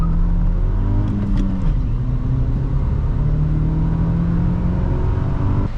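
A 2006 Honda Accord with the 2.4-liter engine and manual gearbox drives along, its low engine drone and road rumble steady inside the cabin, with a brief rise in revs early on before settling into a constant hum.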